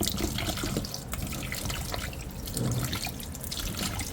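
Running tap water splashes steadily as chicken wings are rinsed in a sink, a close continuous wash with small irregular splatters and drips.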